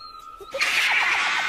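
A zebra stallion gives a loud, close call: a brief high whistle-like onset, then a harsh, rasping braying neigh of rapid repeated pulses lasting about a second.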